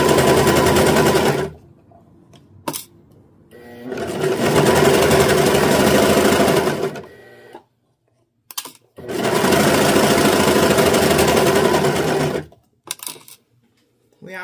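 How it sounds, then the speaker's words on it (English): A serger sewing machine runs in long bursts as it serges the edge of skirt fabric, loud and close, with two sustained runs separated by short pauses and a few light clicks in between. "wanted to have this surged on camera"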